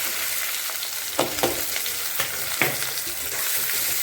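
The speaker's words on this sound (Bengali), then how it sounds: "পেঁয়াজটা এখন ভালো করে ভেজে নেবো লাল লাল করে" Sliced onion fries in oil with garam masala, whole cumin and bay leaves for a mutton curry, making a dense, steady sizzle. A few distinct scraping stirs of a spoon punctuate it.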